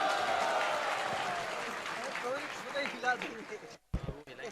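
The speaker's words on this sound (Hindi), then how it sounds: "जोरदार तालियां एवरीवन" Crowd applause at an ISKCON lecture hall: a broad wash of clapping and cheering from a gathered audience, with voices calling out over it, fading near the end into a few louder bumps.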